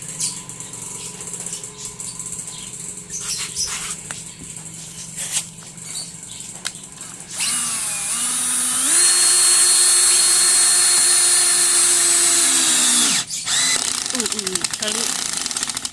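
A power drill on speed setting one whines steadily at a constant pitch for several seconds, boring into soap, after earlier clicks and handling noises; it stops abruptly near the end.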